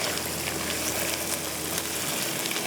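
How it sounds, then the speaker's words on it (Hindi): Boiled mutton going into a pot of frying onions and spices for mutton pulao, a steady close sizzle and hiss with faint clinks, no talking. "ये मटन जो हमने बॉईल किया हुआ है इसको इसके अंदर ऐड कर रहे हैं"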